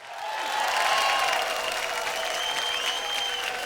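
A studio audience at a televised Indian talent competition claps in a loud, sustained roar that swells quickly and holds steady for several seconds, with faint tones ringing underneath.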